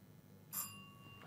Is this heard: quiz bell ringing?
yes